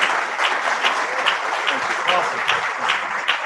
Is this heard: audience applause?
yes